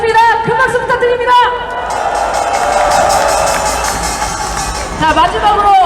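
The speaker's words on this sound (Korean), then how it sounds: "큰 박수 부탁드립니다." A street rally crowd applauds and cheers in a dense, sustained wash of clapping and voices that swells mid-clip, framed by a speaker's amplified talk before and after.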